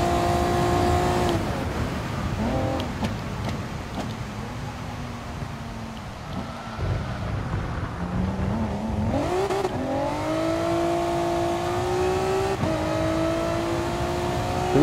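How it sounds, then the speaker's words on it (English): A race car engine in Gran Turismo Sport hums and revs steadily, its pitch rising and dipping as the tires slip, with a faint squeal and a loud, sustained drone throughout and no speech. "The reason why the engine isn't revving up properly is because it's slipping, because the tires are slipping."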